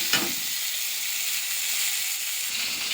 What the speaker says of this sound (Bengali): আমি অল্প একটু তেল দিয়েছি, দিয়ে ডিমটা ভালো করে ভেজে নিচ্ছি।